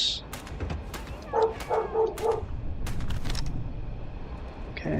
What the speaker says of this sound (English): Sorry if you hear a dog in the background